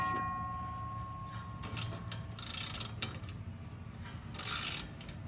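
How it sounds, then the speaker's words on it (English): A bolt being driven with a ratchet on an Echo Bearcat chipper model 70180, with quick metallic clicking in short bursts separated by pauses, set against a low mechanical hum. "So let me put a bolt in."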